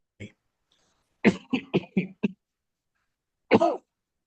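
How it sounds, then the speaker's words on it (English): A few short coughs and throat-clearing sounds, a quick cluster of bursts in the middle with single ones before and after, close and isolated. "I think I'm getting your cough."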